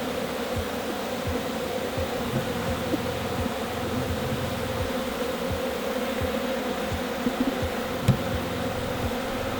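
Honey bees buzz steadily throughout an open beehive inspection, a dense continuous drone close to the frames with a few brief handling knocks and no talking.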